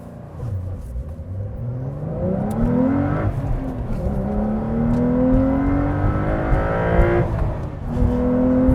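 A manual 2025 Porsche 911 992.2 Carrera T launches under launch control, its engine note climbing hard through the revs. Two clear gear changes break the pull as it keeps accelerating, loud and close, with no talking.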